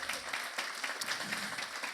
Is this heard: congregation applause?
yes